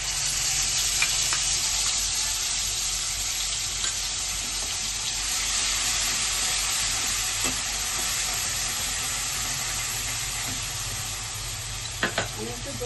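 A spiced yogurt mixture with turmeric fries in a pan for a chhanar dalna, giving a steady, even sizzle throughout with a few faint scrapes of stirring and no talk.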